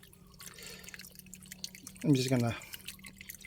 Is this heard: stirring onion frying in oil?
no